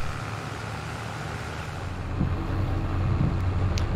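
A New Holland T7 tractor engine in Farming Simulator 22 holds a steady low drone, rising slightly in pitch and loudness partway through, with no talking.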